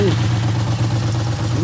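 A restarted engine idles smoothly and steadily after its idle speed is adjusted, a close, even, low hum lasting the whole moment.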